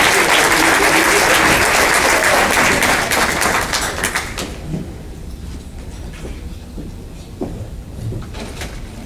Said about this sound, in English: Let's give a warm round of applause for Amina King as she comes up.